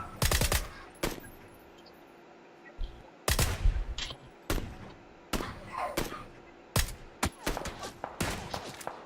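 Gunfire in the video game PUBG crackles at a moderate distance, with sharp single shots and short bursts spaced irregularly over a quiet background.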